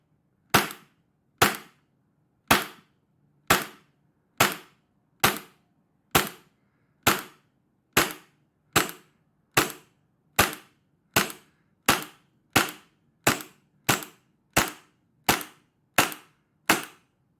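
An Action Army AAP-01 airsoft pistol fires 25 rounds, each a sharp, close, snappy crack, spaced evenly about two-thirds of a second apart in a steady rhythm over near silence.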